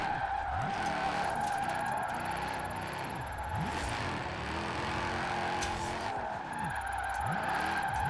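SUV drifting in Forza Horizon 4, engine roaring steadily throughout with repeated rising and falling revs and tire skid squeals, loud and continuous with no talk.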